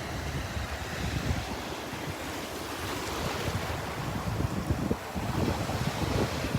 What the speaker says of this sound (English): These little waves. Just incredible.